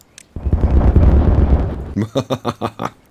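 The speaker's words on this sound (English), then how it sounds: "Dynamite's all ready. Go." A dynamite blast in the Timberborn video game: one loud, rumbling boom that swells and sustains for over a second, followed by a string of short rhythmic voiced bursts.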